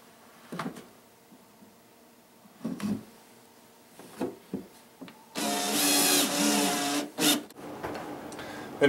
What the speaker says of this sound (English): Using the 4 self-tapping screws provided by pinballpro.com, screw down the block off plate to cover the remaining gap.